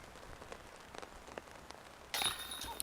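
Rain falls during an outdoor disc golf tournament round, with soft scattered drops pattering faintly before a louder wash of rain noise rises near the end.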